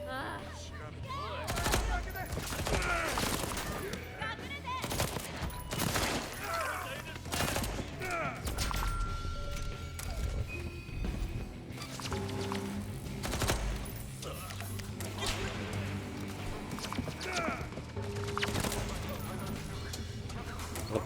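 Rapid gunfire from the video game Deathloop, dense repeated shots and bursts over a continuous game soundscape, with a player's voice talking at times.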